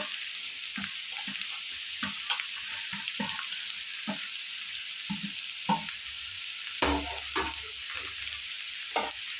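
Spicy street-style paneer fried rice sizzles and hisses in a hot pan while a spatula stirs and scrapes it, with steady frying noise and rhythmic clinks throughout.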